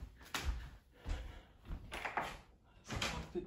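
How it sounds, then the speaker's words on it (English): A door at a mountain home in the Appalachians is shut and locked, giving several separate knocks and clunks spaced about a second apart, fairly close and distinct. "lock the door"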